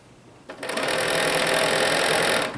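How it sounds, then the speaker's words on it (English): A sewing machine stitches along the very edge of quilt binding, starting after a brief quiet and running as a steady, close, continuous whir for about two seconds. "I sew from the very edge and I just keep going."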